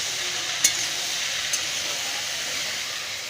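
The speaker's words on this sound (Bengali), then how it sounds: "লবণ আর হলুদ দিয়ে নেড়ে চেড়ে ঢেকে বসিয়ে দেবো" Okra with salt and turmeric sizzling in a pan, a soft steady fry hiss broken by two sharp clinks of a spatula against the metal, no talk.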